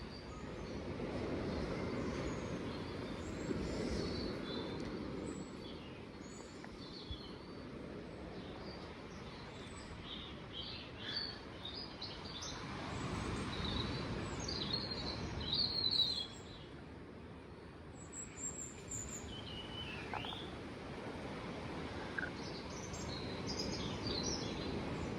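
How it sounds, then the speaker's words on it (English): Robins sing on the cliffs at Ventnor East Cliffs in September, faint high chirps and warbling phrases scattered over a steady low rumble of wind and distant noise. "So if the robins pipe down a bit, I might be able to hear it properly."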